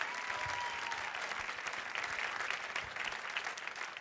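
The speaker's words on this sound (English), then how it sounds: "how about one more round of applause for our two alums on stage?" Audience applause for two school alumni on stage, a steady dense clapping that stays loud and even throughout with a faint whistle-like tone early on, no talking.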